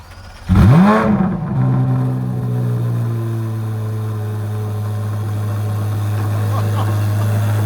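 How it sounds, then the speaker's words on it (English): A C8 Corvette Z06 with stock exhaust cranks and fires on a cold start, revs up sharply, then settles into a loud, steady high idle, close by. "it's going to be a cold start"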